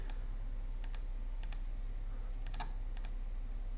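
Crisp clicks of a computer mouse used in photo editing software, in small groups and pairs over a steady low hum, with no talking.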